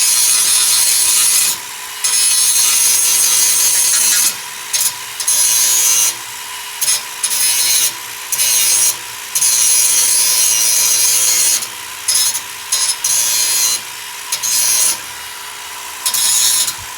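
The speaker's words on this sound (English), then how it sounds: "Let's grind it down." A metal distributor bracket for a Toyota mini truck's GM distributor fix is ground down with a power tool, giving a loud, steady abrasive whine in long bursts broken by short pauses, with no talk.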